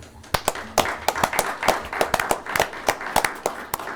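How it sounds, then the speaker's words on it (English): A small group at a county commission meeting gives a round of applause: sparse, distinct hand claps, close and irregular, each one sharp and separate rather than blending into a wash. "I'd like to give him a round of applause"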